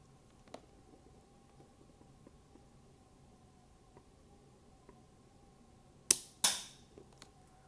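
A mini Lego toy gun fires after near silence, giving a sharp close snap followed a moment later by a second quick crack, both brief and loud against a quiet room.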